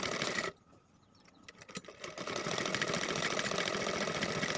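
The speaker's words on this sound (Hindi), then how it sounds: "अब हम किनारे से सिलाई लगाते चले जाएंगे" A sewing machine stitches along the edge of a cloth bag made from old trousers, running steadily and close up, pausing briefly near the start and then resuming a continuous buzzing whir.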